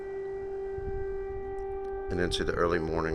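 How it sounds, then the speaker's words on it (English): An air raid siren wails at night in Ukraine in a steady, sustained tone, fairly distant, and a voice talks over it partway through. "the haunting wail of an air raid siren"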